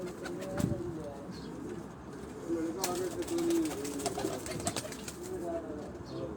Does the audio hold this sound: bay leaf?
no